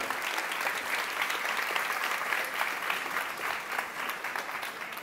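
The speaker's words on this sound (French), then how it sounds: "On les applaudit bien fort." Audience at a national science-communication contest final applauding guests called on stage, loud, sustained, evenly dense clapping from a large crowd throughout.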